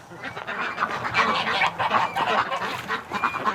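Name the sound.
geese honking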